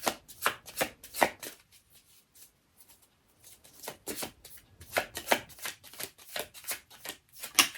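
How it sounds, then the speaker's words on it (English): Tarot cards shuffled by hand in quick riffling bursts, a dense run of crisp flutters, then a short near-silent pause before another steady stretch of shuffling, close and fairly quiet with no talk. "Why am I shuffling this?"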